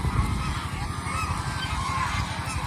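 A flock of geese honks continuously nearby, many overlapping calls forming a dense, steady chorus.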